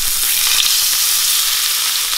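A steak goes into hot oil in a pan over high heat and sizzles loudly and steadily, a close, dense crackle with no voices.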